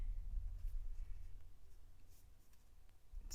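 A pen scratches faint short marks onto a Chalk Couture craft project, quiet and close over a low background hum.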